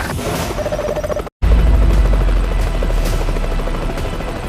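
An unidentified low-flying aircraft passes just above the treetops, a loud continuous rotor-like thrumming with deep rumble that stays strong throughout after a brief cut.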